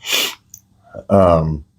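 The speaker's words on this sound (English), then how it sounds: "Sneeze" One sharp, close sneeze bursts out, followed after a short pause by a voice speaking briefly.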